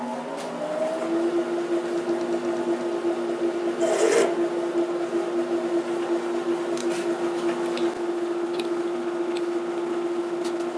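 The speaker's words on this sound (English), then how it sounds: "we'll just give it a quick touch with the drill bit, and that will create the chamfer on the edge of the hole." A drill bit turned by hand against the edge of a drilled hole to chamfer it while making a lathe tailstock chuck mount, heard as a steady rasping scrape that runs continuously, close and fairly loud.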